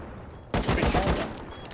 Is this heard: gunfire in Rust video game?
yes